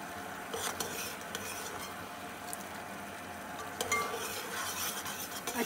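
A spoon stirs sugar syrup in a pan on the stove for homemade orange squash, soft continuous scraping and bubbling with a few light clinks against the metal, fairly quiet with no talk.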